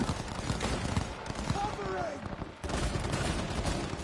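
Gunfire in the video game Cyberpunk 2077, a dense, continuous clatter of shots with a brief lull in the middle, heard as steady game noise with no talk over it.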